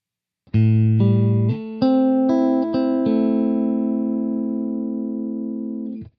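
A Line 6 M9 guitar pedal runs a sped-up, rotary-like modulation effect over sustained electric guitar notes. Several picked chords change in quick succession, then one long chord rings out and slowly fades.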